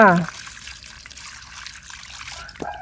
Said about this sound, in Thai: น้ำปลาทูไปล้างก่อนจ้าพี่น้อง ล้างปลาทูจ้า